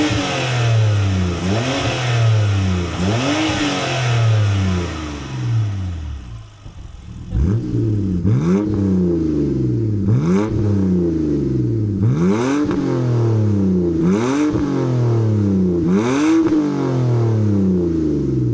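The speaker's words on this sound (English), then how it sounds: "I'm about to give y'all some intake noises and some exhaust sounds, so prepare your ears." BMW N52 inline-six engine revved repeatedly, with intake roar and exhaust note rising and falling in a steady series of sharp revs, loud and close, with a short dip in the middle.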